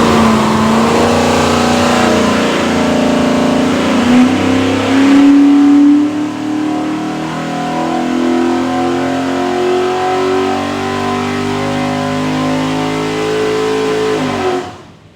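A stacked 427 Windsor V8 with Holley Terminator X fuel management, built for a Superformance Cobra, roars loudly on an engine dyno, climbing steadily in pitch through a sustained full-throttle pull before cutting off abruptly at the end.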